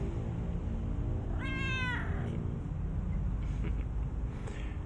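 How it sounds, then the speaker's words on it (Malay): A pregnant village cat gives a single drawn-out meow, clear and fairly close, over a steady low background rumble with no talking. "Ini kucing, ibu kucing"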